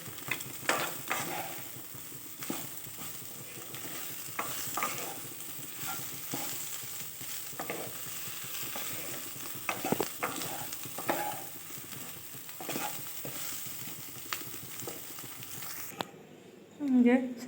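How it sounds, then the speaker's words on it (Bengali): Soybean chunks fry until lightly browned in a pan while being stirred, a constant crackling sizzle broken by repeated scraping strokes, with a voice talking over it before a brief quieter, different sound at the end. "সয়াবিনটা প্রায় ভাজা হয়ে এসছে, মানে হালকা ব্রাউন ভাব চলে এসছে।"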